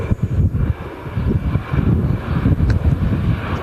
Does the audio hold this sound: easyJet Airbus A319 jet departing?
yes